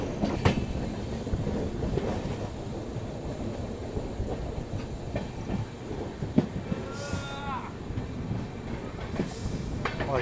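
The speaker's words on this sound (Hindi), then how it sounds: "ट्रेन रुक रही है कोई, तो आराम से चलते हैं।" The Jaipur-Mumbai Superfast train slows into Bhawani Mandi station at night, with a steady rumble of rolling wagons, clicking wheels, a sustained high whine and a brief squeal of braking wheels partway through, heard from on board.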